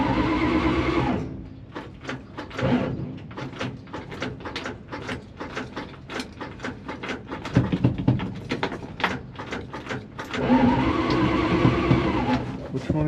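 A 1969 Dodge D100 that sat parked for 20 years is started: a long run of uneven, rhythmic cranking pulses between stretches of loud, steady engine running, all up close.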